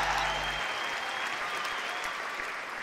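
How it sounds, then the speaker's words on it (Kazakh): Steady audience applause for a singer at a televised singing contest, a dense wash of clapping from a large crowd, sustained and even throughout with no voices over it. "Шапалақ ұрсаңыздар болады"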